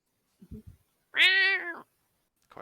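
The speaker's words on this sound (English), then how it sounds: "There is a faint grumble from the cat" A cat being scooped up and held in a bookshop corner lets out a single drawn-out, whiny grumble of under a second, loud and close, with faint brief rustles before and after and no talk.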